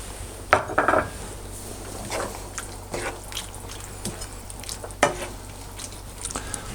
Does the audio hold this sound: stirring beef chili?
yes